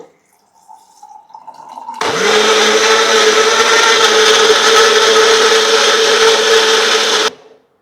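An electric blender whirs loudly at a steady pitch for about five seconds as it purées mint, half a lemon, a small piece of ginger and water into a drink, then cuts off abruptly.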